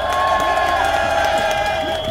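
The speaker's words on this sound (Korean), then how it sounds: "박수 한번 쳐주세요." A crowd at an outdoor public broadcast taping in the rain cheers and whoops loudly, with voices shouting over dense clapping throughout, close and sustained.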